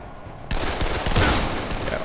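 A sudden volley of gunfire in the zombie game Dead Island breaks out after a brief quiet moment and continues as a loud, dense rattle to the end.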